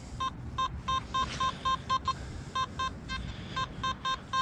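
A Simplex metal detector in a park gives a target tone reading 51: a series of short electronic beeps in irregular bursts over a low rumbling background hiss, fairly close and clear.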